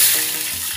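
Water splashes into a pan of browned food in a home kitchen, hissing and sizzling loudly at the start and then settling into a steady softer frying crackle.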